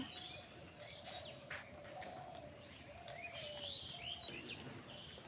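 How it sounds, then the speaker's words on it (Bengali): Birds chirping on a misty village morning, faint scattered tweets and calls at a distance over a quiet steady background, with a few soft coos. "পাখির এত সুন্দর কিচিরমিচির শব্দ"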